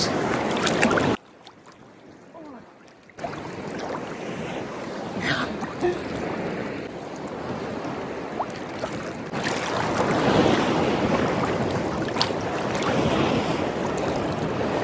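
Choppy Black Sea waves churn and splash amid gusting wind noise at Chornomorsk, with a brief muffled drop partway through before the rough water returns.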